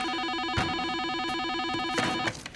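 A telephone rings with a steady electronic warbling tone, loud and continuous across the whole moment, with a few knocks underneath.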